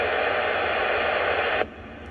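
Broadband hiss from a radio receiver picking up a sine-wave carrier from a signal generator used as an AM/FM transmitter, steady and loud, then abruptly dropping to a lower noise floor as the carrier switches off.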